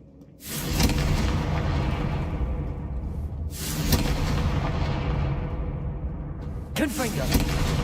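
Explosive Confringo spell blasts in Hogwarts Legacy, three loud booming bursts, each with a sharp onset and a rumbling decay, coming about three seconds apart with low rumble between them.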